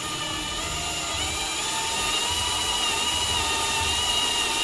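A Harbor Freight drill bit bores a test hole into a block of pine, a steady loud whine of the power drill running continuously throughout with broadband grinding noise and no talking.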